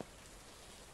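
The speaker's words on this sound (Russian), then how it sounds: "Почему здесь дождь идет?" Rain falling in the Trader Life Simulator game, a faint steady hiss of drops pattering on a surface for about a second, with no talk.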